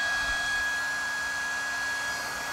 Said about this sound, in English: And this is how loud this pump is.